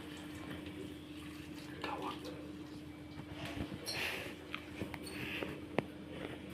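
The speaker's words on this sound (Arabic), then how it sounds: "انا صب لي ميه كتير في طبق" Water poured from above into a plate, a steady running trickle with small splashes and drips, fairly quiet, with a low background hum and faint voices around it.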